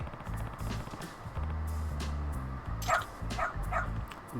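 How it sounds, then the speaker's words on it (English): Barking from a dog in the video game Lost Judgment, several short yaps and woofs in the latter half over a steady layer of game music and ambience. "The dog."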